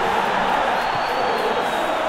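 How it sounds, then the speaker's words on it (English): Stadium crowd in the PES 2021 video game during an Arsenal vs Tottenham match, a steady, dense roar of cheering that holds evenly throughout without breaks. "Well, the crowd clearly like what they just saw."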